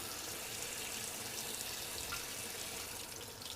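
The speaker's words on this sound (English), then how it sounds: "Okay, warm water. Let me get some here." Warm water running from a kitchen tap, a steady even hiss of flow that continues unbroken throughout, close by with no voices.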